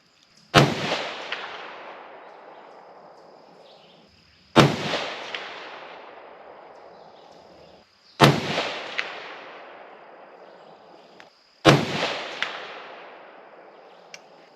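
A Savage 110 Desert Tactical rifle in 6.5 Creedmoor fires reloads of 42.5 grains of RL16, four loud sharp shots spaced about four seconds apart, each followed by a long fading echo outdoors.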